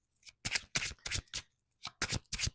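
Tarot cards being shuffled in quick bursts, about seven crisp riffling flutters with short pauses between them, close and clear with no talking.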